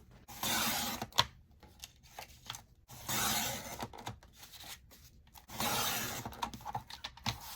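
Scissors or a blade cutting through thick cardstock while making Halloween vintage file cards, three separate close, rasping cutting strokes of a few seconds each with short quiet gaps between them, no talking.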